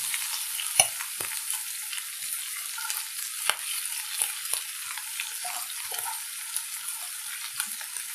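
Thinly sliced onions fry in a pan for egg curry, a soft steady sizzle broken by frequent light scrapes and taps as they are stirred.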